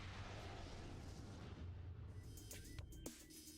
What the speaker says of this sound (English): fires off a much more powerful version of the standard missile at the cost of 5 per shot